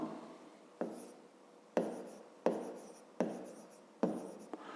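Pen or chalk writing numbers by hand, five or six short scratchy strokes at an even pace, each a crisp tap trailing into a brief scrape, close and quiet with no talk.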